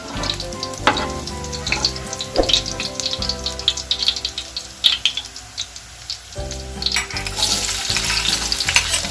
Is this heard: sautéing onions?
yes